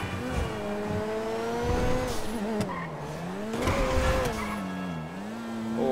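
A fast super car in GTA 5 accelerates hard, its engine whining up through repeated gear shifts, with rising and falling pitch and some tire squeal, loud and close throughout.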